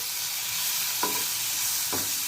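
Garlic paste and tomato sizzle steadily in a hot pan, a bright hissing fry throughout, with two short scraping stirs of a spoon punctuating it; no voices.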